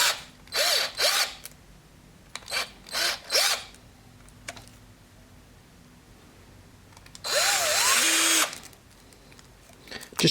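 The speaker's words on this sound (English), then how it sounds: "This is a 5/16 drill bit, and I'm just going to go straight down the leg" A power drill fitted with a 5/16 bit bores down into an action figure's leg in short whirring bursts: three brief spurts, two more, then a longer run, separated by quiet pauses with faint background hum.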